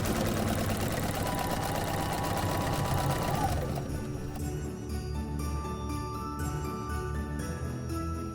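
A sewing machine stitches a leaf shape in a Christmas quilting project, its motor running in a steady, dense whir that holds fairly loud throughout, with a brief change in tone partway as the stitching continues.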